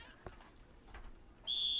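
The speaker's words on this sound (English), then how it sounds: "Blows the whistle, and the ball is kicked off" A referee's whistle starts the second-half kickoff of a men's Division III college soccer match, Earlham against Rose-Hulman. After quiet field ambience, one loud, sustained, shrill blast begins late and holds to the end.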